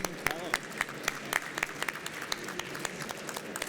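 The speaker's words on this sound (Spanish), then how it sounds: "Un aplauso, por favor." Audience applause for a contest winner at a trade-show stand event, a steady patter of claps with sharp louder peaks, fairly quiet and diffuse, with some voices underneath.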